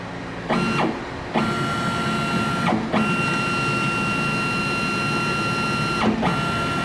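A CNC lathe axis under Mach 3 control traverses in and out with a steady whining motor tone, broken by several short stops and restarts as it reverses, loud and close.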